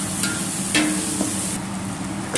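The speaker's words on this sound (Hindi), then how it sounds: "जिंजर गार्लिक के पेस्ट को तब तक भूनना जब तक खुशबू ना दे दे" Ginger garlic paste is stirred and fried in a pan for fish korma: a brief, close hissing sizzle with a couple of quick scraping clinks.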